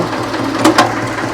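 An older Zetor tractor engine runs at normal speed with a steady, dense mechanical hum, close by, broken only by a couple of brief clacks.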